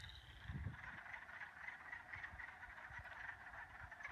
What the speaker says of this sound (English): But then there are some that are going brrrt, brrrt. I think those are chorus frogs.